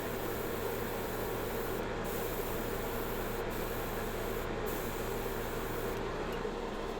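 An airbrush sprays paint onto a bowl being painted with a sunflower design, giving a steady, close, continuous airy hiss that runs unbroken throughout with no talking.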